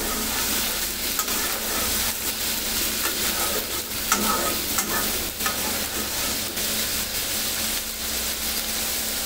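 Spice paste for spicy Bombay duck fish is stir-fried in a pan. A continuous sizzle runs beneath repeated scraping strokes of a spoon, close and fairly loud, with no voices.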